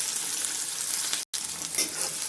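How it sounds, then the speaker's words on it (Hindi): Chopped onion fries in hot oil as it is stirred in a pan, a dense continuous sizzle close by that drops out for a moment before resuming. "इनको चलाते हुए हल्का सा भून लेंगे"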